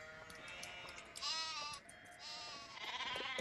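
Sheep bleating in the Nancy Drew video game The Haunting of Castle Malloy, several wavering cries in quick succession, fairly close and quiet, with no speech.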